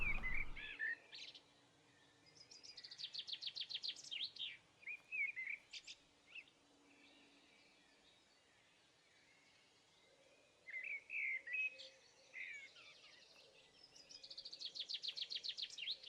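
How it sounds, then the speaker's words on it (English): Grouse in the video game UnReal World give repeated bursts of rapid chirping and trilling calls, some near and some farther off, spread over a quiet outdoor background with long pauses between them. "Yeah, grouse are quite loud, as birds go, too."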